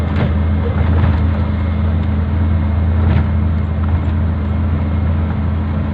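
A car climbing a rainy mountain road near Kaeng Khoi in fourth gear while overtaking in heavy traffic, heard as a loud, steady broadband engine and road roar with a constant wet hiss of tyres and no breaks.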